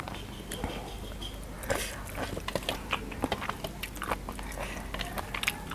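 Someone bites into and chews papaya salad, with crisp crunchy bites and wet chewing clicks repeating close up in a quiet room.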